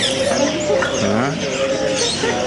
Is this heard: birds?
yes